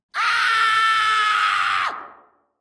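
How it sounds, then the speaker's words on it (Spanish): A recorded scream sound effect: one loud, sustained shriek held for nearly two seconds before it breaks off and trails away, heard alone with no talking. "yo tengo un grito por aquí"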